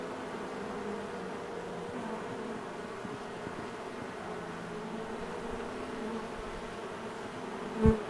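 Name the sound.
honey bee swarm buzzing in a cherry tree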